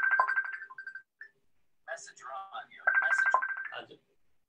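A telephone rings with steady electronic ringtone tones, heard at moderate level and interleaved with a person talking nearby.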